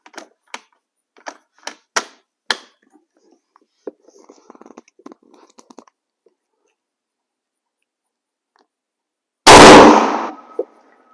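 A US 03-A3 military surplus rifle fires a hunting bullet: one loud, sharp gunshot near the end, preceded by a series of small clicks and handling clatter.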